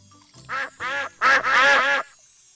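Five clear, loud duck quacks from a Peppa Pig children's game, two separate calls followed by a quick run of three, alone with no talking.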